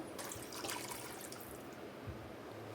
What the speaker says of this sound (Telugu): నేను 2 గ్లాసెస్ రైస్ చేస్తున్నాను, అందుకనే 3 గ్లాసెస్ వాటర్ అయితే యాడ్ చేసుకుంటున్నాను ఇందులో